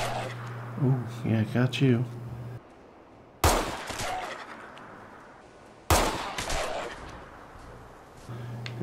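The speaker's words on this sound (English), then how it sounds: "right now, we're going to use our P99 pistol." Two loud, sharp P99 pistol shots ring out in Fallout 4, each a sudden broadband burst with a decaying tail, a few seconds apart; a voice speaks briefly before them.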